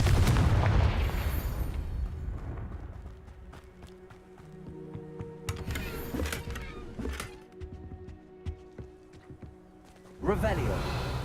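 The Confringo blasting spell goes off in the Hogwarts Legacy video game, a loud booming burst at the start, then scattered game sounds and a speaking voice, then another heavy blast at the end.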